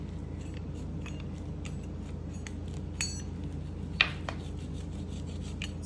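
A pizza cutter rolls and presses through a baked sheet-pan crunchwrap, giving faint, close, dry rasping and scraping with a few light ticks against the pan, quiet and without talk.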